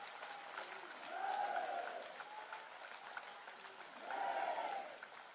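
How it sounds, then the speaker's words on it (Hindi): A large crowd at an election rally claps steadily for soldiers, rising in two louder swells, sustained and somewhat distant. "एक बार सभी हाथ उठाकर तालियां बजाकर हमारे देश के सेना के जवानों का अभिनंदन किया जाना चाहिए"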